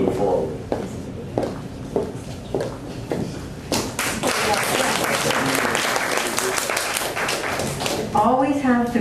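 Applause from an audience at a downtown revitalization forum builds after a few scattered claps, sustained and fairly loud for several seconds, with a voice briefly audible near the end.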